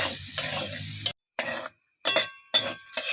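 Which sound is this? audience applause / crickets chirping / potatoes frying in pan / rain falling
potatoes frying in pan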